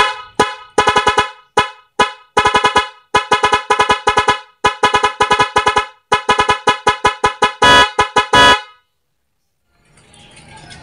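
Nhay 3 Pro music dual car horn blaring in rapid, melodic bursts of short honks, very loud and close, stopping abruptly before a quiet hiss.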